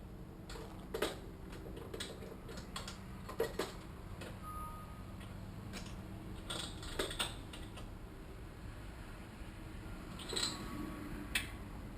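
Spark plug wrench fitting a spark plug on a Parajet Volution 200 paramotor during assembly, giving scattered light metallic ticks and clicks at close range over a low steady background hum, with no talk.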